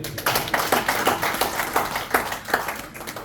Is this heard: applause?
yes